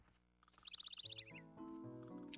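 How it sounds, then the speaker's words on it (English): Birds in the video game Dawn of Mana chirp clearly, a quick run of high tweets followed by a soft melodic game tune, with no talking. "Watch the clouds go by, listen to the birds."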